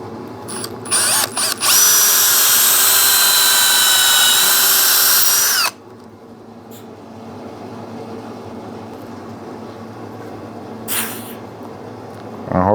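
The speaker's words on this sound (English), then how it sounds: "That's the sound that this drill makes." Power drill boring into a wooden knife handle, a loud high whine running steadily for about four seconds after a few short starts, then stopping, followed by quiet workshop ambience and one brief later burst.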